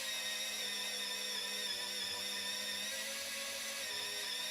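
An electric pencil sharpener grinds a pencil while a portrait is drawn, giving a continuous thin, high whine with a faint steady hum beneath, fairly quiet and unbroken throughout, with no voices.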